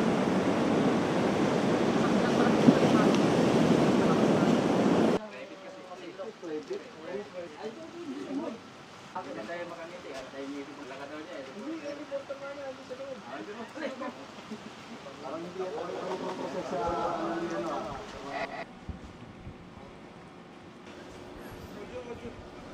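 Stormy weather on the Zambales coast in the Philippines, with a loud roar of wind and surf for the first few seconds, then a narrator's voice over fainter background wind and water.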